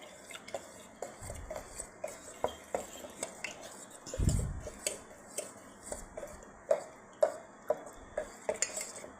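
A spoon stirs an almond milk mixture in a pot, giving faint, regular clinks and scrapes roughly every half second, with a brief low thump partway through and quiet kitchen background.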